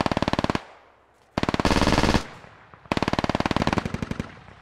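Suppressive machine gun fire in a tactical military shooter game: three loud, close bursts of rapid, evenly spaced shots separated by short pauses, with no talk.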